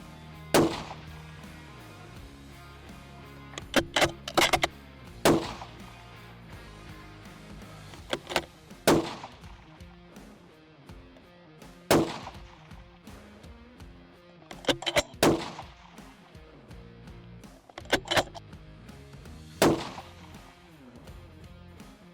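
Rifle shots at a target during an ammunition test comparing budget and premium rounds, about a dozen sharp reports spaced several seconds apart with some impacts, moderately distant, alone without speech.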